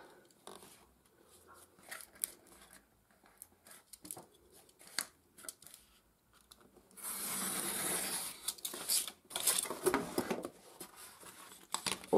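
Cardboard tab being cut off for a DIY upcycled vintage organizer, with soft scraping and snipping first, then a louder stretch of rough rasping and tearing near the end, close up with no voices.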